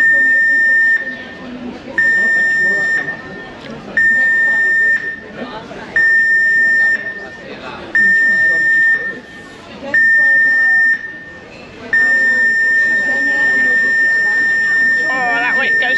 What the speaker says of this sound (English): Oh, and like safety alarm's gonna go off.